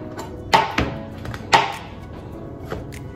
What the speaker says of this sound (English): So I just do a super easy rough chop.